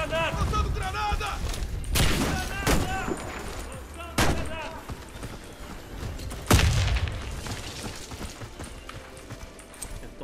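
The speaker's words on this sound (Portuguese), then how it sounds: "Lançando granada!" Grenade blasts in a tactical shooter video game, with several sharp explosive bangs that stand out above a busy backdrop of gunfire and footsteps, and voices talking over the action.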